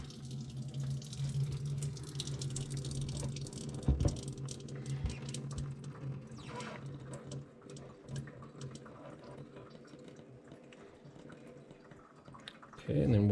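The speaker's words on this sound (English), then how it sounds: "Just loosen the cap off the reservoir and it all should drain out" Coolant drains from a Nissan Sentra radiator with the reservoir cap loosened, a running trickle and splatter of liquid with scattered drips and knocks. Faint talk sits underneath, and a louder burst comes near the end.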